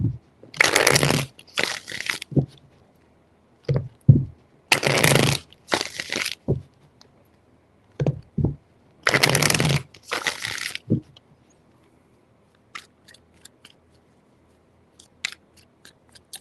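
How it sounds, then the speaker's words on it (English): Tarot cards are shuffled in three quick bursts of crisp riffling, each a second or two long, separated by pauses with light taps and handling sounds between them. "Three shuffles."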